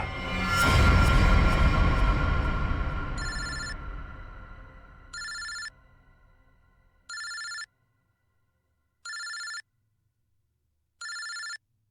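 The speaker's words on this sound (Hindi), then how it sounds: "ये किसका फोन है?" A phone rings in a Hindi CID crime drama episode, five short electronic ring bursts evenly spaced after a loud swelling music sting fades, with no talking.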